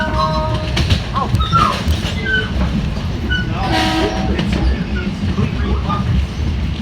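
A commuter train horn sounds in loud bursts as the train passes near Fleetwood station on the Melrose to White Plains line. Rumbling wheels and carriage noise run throughout, and voices talk nearby.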